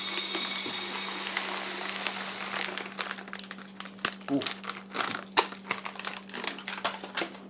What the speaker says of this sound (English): get it out that plastic bag.